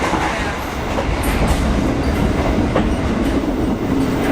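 An Indonesian executive train running between Jakarta and Malang, heard from inside a carriage as a continuous loud rumble with wheel clatter and faint squeals.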